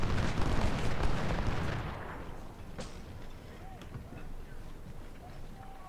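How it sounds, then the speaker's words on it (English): Cannon fire booms and rumbles through a Civil War battle at Fredericksburg in the strategy game Ultimate General: Civil War, heavy and dense at first, then fading to a quieter background of distant battle noise. "we're starting to attract cannon fire"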